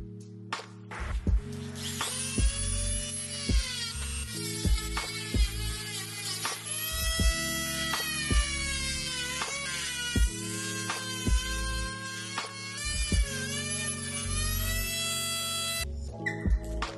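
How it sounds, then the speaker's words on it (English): A Dremel rotary tool cuts open the plastic shell of a Google 65W mini charger: a loud, close, high-pitched whine that rises and dips as the bit bites into the plastic, running steadily throughout with no talk. "We cannot take out the internal module, so we have to use the Dremel to destroy the shell."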